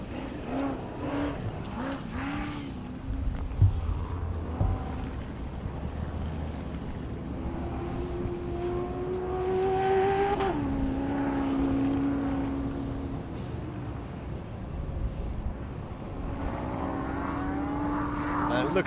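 An off-road race car engine revs and surges during a 4WP Every Man Challenge qualifying run on a short course with jumps, loud and close with rising and falling pitch sweeps throughout, under intermittent commentary.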